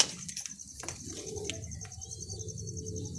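Pigeons from a Sialkoti and Kasuri cross breed coo softly and repeatedly at close range over a low background murmur, with a few faint chirps and wing-like flutters.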